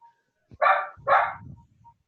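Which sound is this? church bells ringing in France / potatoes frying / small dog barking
small dog barking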